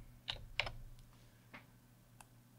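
Several separate keystrokes on a computer keyboard during SketchUp array entry, a few crisp clicks spaced irregularly, faint and close with no talk.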